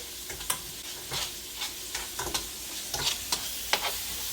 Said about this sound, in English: So I've added in 2 teaspoons of ginger and garlic into the oil.